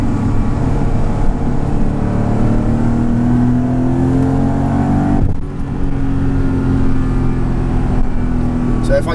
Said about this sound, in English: gonna drop it into manual mode again and gradually build up the RPMs and see what happens